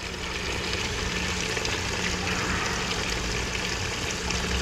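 Water pouring into boxes being filled for transporting aquarium fish; a continuous, loud rushing splash with a low pump or motor hum beneath, steady from start to finish.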